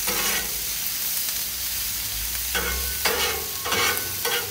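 Onions sautéing on a Blackstone griddle over medium burners, a soft continuous sizzle broken by scraping and stirring strokes that come in short bursts toward the end.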